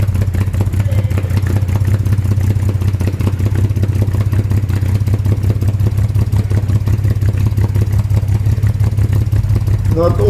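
A 1938 SS Drophead 3½ Jaguar engine running on its first start in over 50 years, a loud steady idle with a low rhythmic chug and a fast mechanical clatter, close by and continuous throughout.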